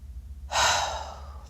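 A single deep, drawn-in breath, close and clear, rising sharply then tapering off over about a second against a quiet background.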